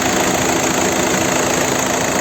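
A warmed-up 2010 VW Touran with a 2.0 TDI diesel engine idling at steady revs, a loud, continuous close-up rumble with faint ticking and the air conditioning fans running, with no talk.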